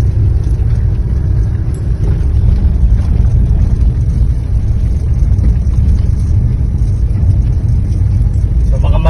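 A car descends a hill in second gear with light braking, its engine giving a loud, steady low rumble with road noise that continues for the whole stretch.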